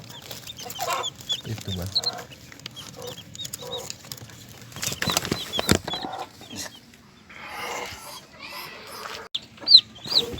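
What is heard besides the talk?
mother hen clucking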